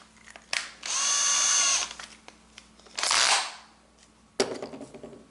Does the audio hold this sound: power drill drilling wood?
yes